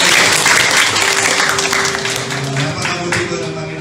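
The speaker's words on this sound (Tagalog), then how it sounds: "Palakpak nga po tayo." A church congregation claps at a 26th anniversary service in Mauban, a loud dense round of applause that slowly thins, with voices and a sustained tone underneath.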